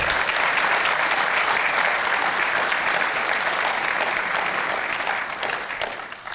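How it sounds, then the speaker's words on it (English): Full, loud round of applause from a conference audience thanking the event staff, dense steady clapping that fades gradually over the final second. "If you could give them a round of applause."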